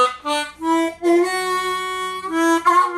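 The same third-position riff on a diatonic blues harmonica in Easy Third tuning, now played lower on the harp: a short, close phrase of reedy sustained notes with slight bends, heard alone.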